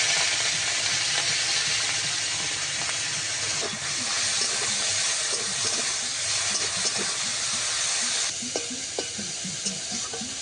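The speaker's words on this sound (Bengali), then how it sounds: "চিংড়ি মাছগুলো প্রথমে ভেজে নেব।" Prawns frying in a little oil in a kadai, a steady loud hiss and sizzle that runs throughout with small crackles and occasional stirring scrapes, no talking over it.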